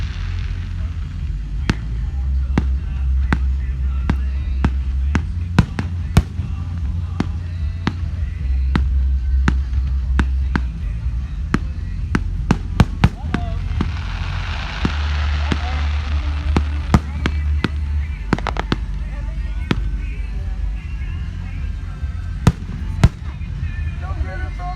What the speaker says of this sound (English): And then that firework as well, whenever it glitters.